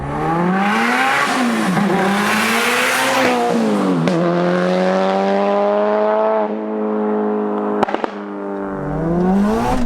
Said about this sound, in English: This car just sounds angry.